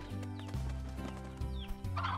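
Hens in the video game Slime Rancher cluck in short repeated bursts, fairly close, over a steady tonal game backdrop.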